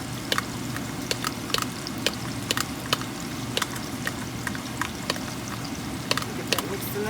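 Onions and garlic fry in a pan with a soft, steady sizzle, punctuated by sharp clicks and taps from stirring. A person talks over the cooking throughout.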